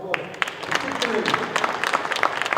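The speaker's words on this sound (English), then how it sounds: "Give them a big round of applause" A crowd at a National Futsal League final claps for the two teams, a moderate patter of scattered handclaps under a voice speaking over the applause throughout.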